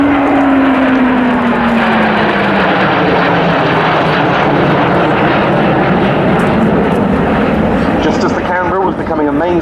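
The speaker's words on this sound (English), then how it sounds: "Right again with the T7 on the right wing of the Canberra." An English Electric Canberra PR9 jet flies with a Hawker Hunter T7 at an RAF Waddington airshow. The loud, continuous engine roar carries a slowly falling tone, and a voice talks over it throughout.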